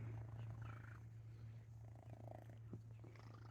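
Freckles the cat purrs close and quiet, a steady low rumble running through the whole stretch, with faint background noise.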